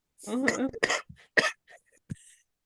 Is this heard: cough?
yes